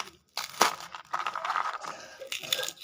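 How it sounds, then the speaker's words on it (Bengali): Dried lentil dumplings (bori) are crushed by hand for an aloo begun bharta. Brittle crunching and crinkling comes in short bursts after a brief pause, close and fairly quiet. "এবার আমি বড়িগুলোকে গুঁড়ো করে নেব।"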